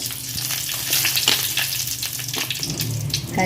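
Chillies dropped into hot oil for a village-style catfish pulimunchi fry with a steady, loud sizzle and crackle, broad hiss rising in bursts as they settle, with a faint stir or clink near the end.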